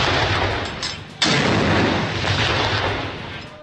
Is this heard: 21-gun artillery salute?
yes